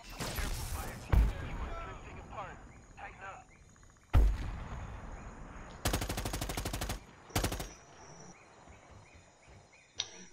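Rapid bursts of automatic gunfire and sharp weapon blasts in the video game Predator: Hunting Grounds, coming in several loud volleys with heavy impacts between them, while people talk over the action.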